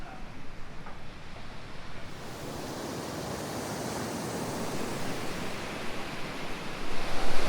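Ocean waves breaking on the sand beach of a small bay near Troncones Point, Mexico, a steady broadband wash of surf that swells louder toward the end, with no voices.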